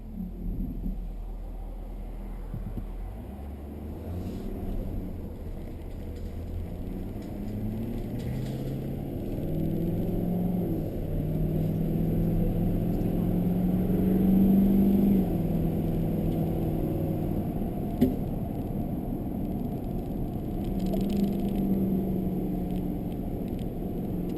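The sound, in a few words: Ford F-250 6.7 pickup truck engine while towing, gear shift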